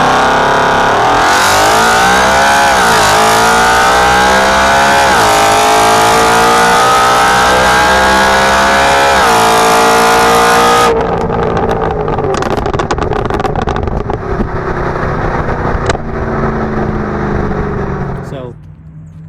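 BMW M3 E93 convertible with the S65 V8 and Flowmaster mufflers, its exhaust rising and falling through loud revs for about eleven seconds, then settling to a quieter, steady burble.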